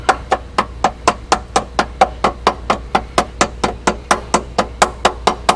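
A hammer taps repeatedly on metal parts during a main bearing rebuild on an ISX engine, about four quick, even, close knocks per second at steady loudness, with no speech.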